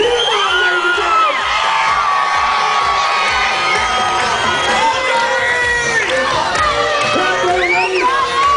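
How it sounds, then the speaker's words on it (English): Crowd at a gyro eating championship cheering loudly, with shouts, whoops and high-pitched yells overlapping in a continuous roar from start to finish. "Let's cheer them on, ladies and gentlemen."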